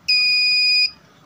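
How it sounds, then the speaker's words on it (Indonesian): A continuity-tester buzzer gives one loud, clean beep of just under a second, then goes silent, while an SMD ceramic capacitor is checked. "Untuk tesnya kita pakai buzzer di sini ya"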